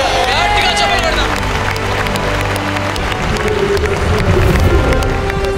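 A large congregation at a Hyderabad, India gospel crusade breaks into loud, continuous clapping mixed with cheering and crowd noise, filling the space without pause.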